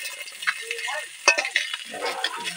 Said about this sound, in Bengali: কম তেলেই এই চেয়া মাছটা ভেজে নিচ্ছি।